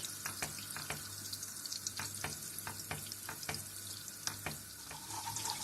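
Tomato-style sauce with pepper flakes sizzles and crackles steadily in a hot pan, with a scattering of sharper pops and scrapes of stirring throughout.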